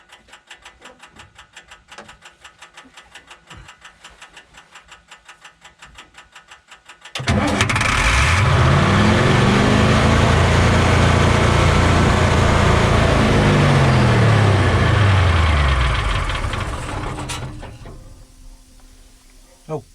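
A Caterpillar CAT 3208 diesel engine with a fuel problem, after a no-start repair, cranks and catches, then roars up to full throttle with a loud rising and falling rev for about ten seconds before cutting off. Quiet ticking comes before it.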